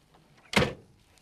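A car door on a 1991 Fiat Uno shuts once with a short, light, thin thunk, heard fairly close in an otherwise quiet setting.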